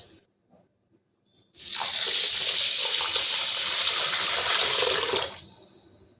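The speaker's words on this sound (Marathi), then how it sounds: "याच्यामध्ये पाणी घालून मी दोन पाण्याने स्वच्छ धुवून घेणार आहे" After a short quiet start, water pours onto basmati rice in a steady, loud gush for about four seconds, then stops.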